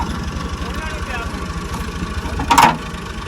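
A tractor engine idles with a low, steady pulsing throb from a loose tappet, running continuously with a brief louder burst near the end.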